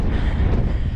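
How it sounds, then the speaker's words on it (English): Strong wind gusts roar across the microphone during a cycling climb up Buttertubs Pass, a loud, close, buffeting rumble lasting about a second with no voices. "It's so windy."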